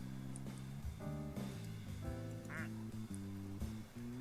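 Ducks quack repeatedly over a busy steady background, several nasal calls overlapping in an uneven run, moderately close.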